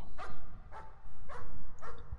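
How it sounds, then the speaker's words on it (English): A dog barks in the horror video game Layers of Fear, four sharp barks spaced about half a second apart, fairly loud over a low rumbling ambient backdrop. "Wasn't expecting dog barking."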